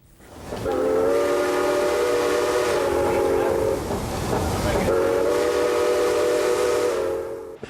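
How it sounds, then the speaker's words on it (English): Old 261, a classic steam locomotive hauling a roughly 400-ton excursion train, rumbles past loud and close with a steady roar and a sustained whistle blast, a short break, then the whistle sounding again. "At the controls of the classic locomotive, a man who wasn't even born when the engine made its first run."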